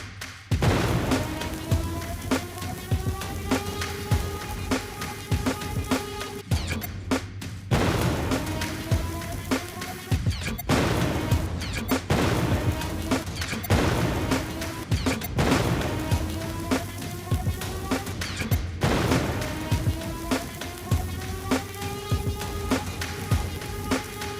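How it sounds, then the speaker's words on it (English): A video game flamethrower built in Unreal Engine 5 MetaSounds fires a roaring, crackling flame blast in long bursts, with a musical riff pulsing through the noise in repeating phrases and brief gaps between them. "the weapon sound as the flame is being ejected has a musical"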